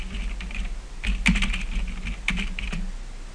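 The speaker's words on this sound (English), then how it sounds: "So this is where you can type in your text." Keys clatter on a computer keyboard as text is typed into a letter-merge document in office software, a steady run of light close clicks with a few sharper strikes and no talk over them.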